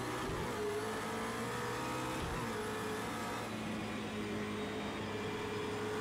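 McLaren P1 GTR race car in Project Cars 2, its engine droning steadily at high revs with a sustained tonal whine throughout, no talk over it.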